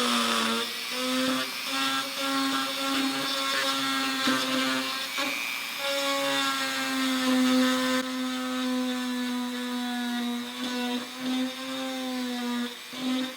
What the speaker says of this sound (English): this is not a woodworking bit on here, but it'll work to grind that in there